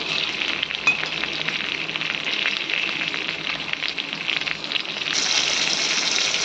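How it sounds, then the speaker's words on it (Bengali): Pointed gourd (potol) pieces frying in oil while being stirred give a steady, dense sizzling hiss with a few soft stirring knocks, and no voices. "ভালো করে নেড়ে চেড়ে ফ্রাই করে নিচ্ছি"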